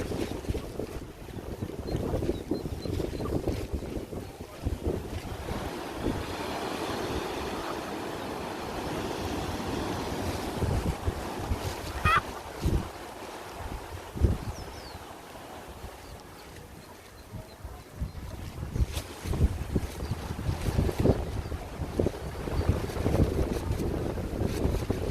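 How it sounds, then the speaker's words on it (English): Ocean waves and gusting wind on the Barbados coast during Hurricane Bret, a continuous heavy roar of surf with wind buffeting the microphone, rising and falling throughout with no voices. "Waves getting bigger."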